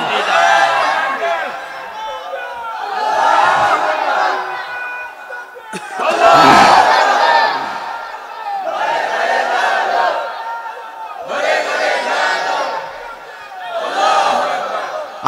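Large crowd chanting takbir at a night-time Bangla Islamic sermon gathering, loud massed voices rising and falling in about six long waves of roaring chant with short pauses between.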